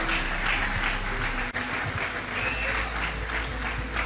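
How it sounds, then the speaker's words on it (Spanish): A church congregation at a Spanish-language worship service applauds together, a dense, sustained wash of clapping that fills the room, steady and fairly loud with crowd noise mixed in. "Dale fuerte tu aplauso al Señor."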